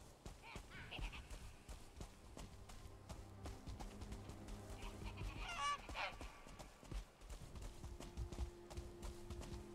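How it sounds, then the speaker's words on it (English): A duck calls in the Viking survival video game Valheim, with a few faint quacking or honking notes over steady game ambience and footsteps. "There's a duck."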